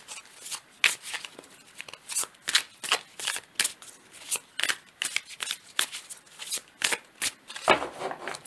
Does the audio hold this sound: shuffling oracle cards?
yes